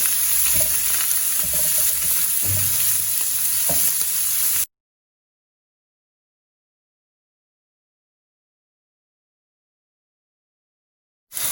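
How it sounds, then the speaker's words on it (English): Cubes of paneer fry in hot oil in a pan, a steady close sizzle with a few low knocks for about four and a half seconds before the sound cuts to silence. "we are just going to fry our cottage cheese or paneer until they turn a little golden brown"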